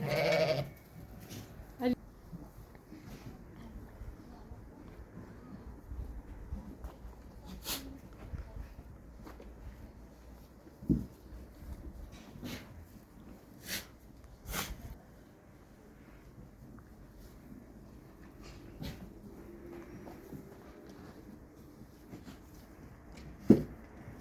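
Lambs bleating now and then on a farm in Aksaray, Turkey, some calls sharp and close, over a quiet outdoor background with faint voices.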